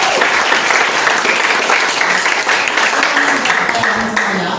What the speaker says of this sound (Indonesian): beri aplaus semuanya